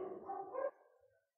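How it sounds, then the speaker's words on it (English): Several dogs bark somewhere out of view, a muffled, distant-sounding run of barking that fades and stops. "all of the dogs are barking right now"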